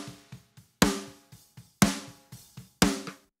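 A pop punk drum pattern with a heavily compressed snare treated with tape saturation and distortion: three loud, punchy cracks with short, crunchy decay, evenly spaced between softer kick hits, no voices.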